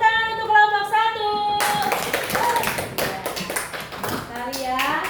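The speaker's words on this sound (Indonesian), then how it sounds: "Beri tepuk tangan untuk kelompok 1" Applause in a classroom starts partway through, a burst of many hands clapping that continues steadily after speech at the start, with voices mixed in.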